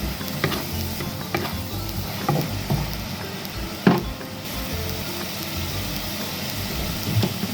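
Onion leek and shrimp stir-fry in a pan, a steady close sizzle with occasional scraping and stirring clatters throughout.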